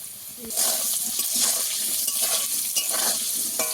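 Cut potatoes fry in hot oil with white cumin seeds, a loud close sizzle broken by repeated stirring scrapes in the pan.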